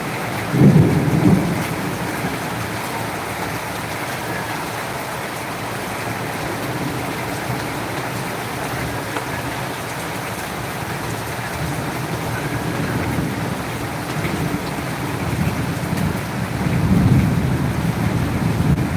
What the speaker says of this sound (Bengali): কাঙ্ক্ষিত বৃষ্টি